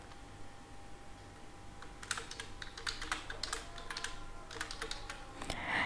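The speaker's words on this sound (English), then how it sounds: "Here I'm just typing the city name Nova Scotia." Quiet keystrokes tap on a computer keyboard in irregular bursts, soft and close, with a faint steady hum behind.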